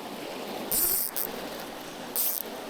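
Rough water of the Gibbon River near Yellowstone rushes in a steady broadband wash, with a few brief bright hissing splashes breaking through.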